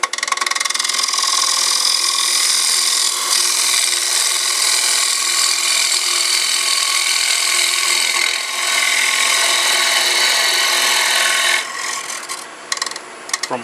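A wood-turning gouge hollows out a spinning wooden block, giving a steady close scraping hiss that runs for most of the stretch before cutting off into a few brief taps and knocks.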